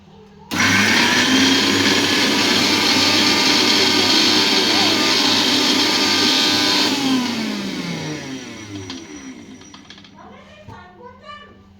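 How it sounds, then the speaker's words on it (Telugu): A kitchen mixer grinder switches on abruptly and runs with a loud, high-pitched motor whine for about six seconds, then spins down as its pitch falls, followed by faint household voices. "సరే ఇప్పటికైతే మూడిటితో నేను మిక్సీ పడతాను."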